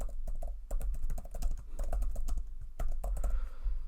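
Rapid clicking of keys on a computer keyboard during spreadsheet work in Excel, steady close-up typing in bursts over a low hum, with no voices.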